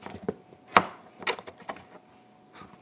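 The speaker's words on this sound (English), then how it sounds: "to scoop out the seeds and what have you." A spoon scoops seeds out of a halved butternut squash, making a few soft scrapes and one sharper knock against the hard flesh, close and quiet, with no talking.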